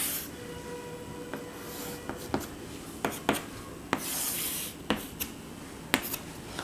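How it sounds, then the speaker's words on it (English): A pen scratches across paper while a graph is drawn, with soft rubbing strokes and sharp little taps and ticks at irregular intervals, quiet and close. "Just I'm drawing graph."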